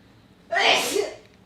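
A single sharp sneeze bursts out close by, loud and brief, in an indoor room.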